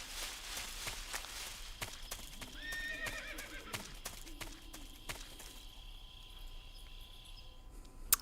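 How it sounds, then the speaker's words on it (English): A horse in Metal Gear Solid 3 whinnies in a rising, drawn-out call, then its hooves clip-clop on the ground, with crickets chirring in a night setting. "There's a horse."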